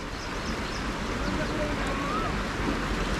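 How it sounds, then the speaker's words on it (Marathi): Fast-flowing water rushes steadily at a hidden riverside spot near Badlapur, a broad continuous wash with wind buffeting the microphone, no clear voices over it. "वाहतं पाणी खूप"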